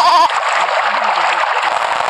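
A short bleat from a goat in a video game, one wavering call at the start, then a dense noisy burst of game sound fills the rest of the clip.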